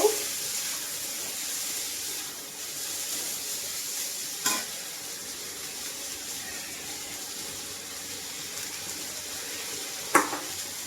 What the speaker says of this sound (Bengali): তারপরে দিয়ে দেবো পেঁয়াজ কুচি দিয়ে ভালো করে নেড়ে ছেড়ে নেব